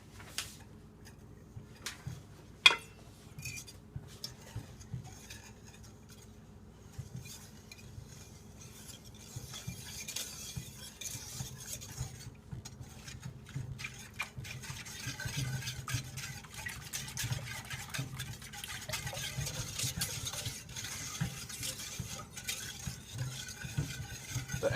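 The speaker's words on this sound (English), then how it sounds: "just whisk it all together" A whisk stirring milk, egg whites and cornstarch in a bowl for s'mores pie filling, a quiet continuous scraping swish with brief clinks against the bowl, growing a bit busier toward the end.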